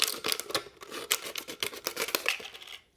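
Scissors snip through a thin plastic water bottle as it is cut around near the base for a recycled sun catcher craft, a quick series of crisp, close clicking cuts and crackles with brief pauses.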